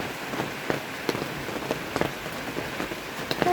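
Rain falls steadily outdoors while a yard is being cleaned, a close, even patter on surfaces with scattered louder drops and no voices.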